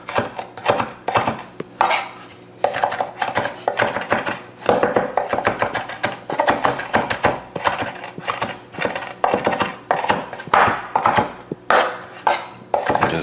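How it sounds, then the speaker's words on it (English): A knife chopping rosemary on a cutting board, loud close rhythmic knocks in fast bursts with brief pauses between runs, no voices. "I'm just going to chop up some rosemary."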